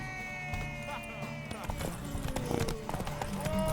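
Horse hooves galloping in The Witcher 3, a quick clip-clop rhythm under game music and other game sounds, the hoofbeats growing a bit louder toward the end.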